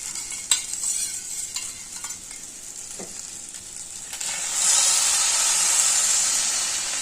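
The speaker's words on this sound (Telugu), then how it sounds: "మజ్జిగ వేసుకుందామండి." Buttermilk goes into an okra tempering in a pan: a few clinks and stirring scrapes, then a louder steady sizzle and hiss as the liquid hits the hot pan, with no talk.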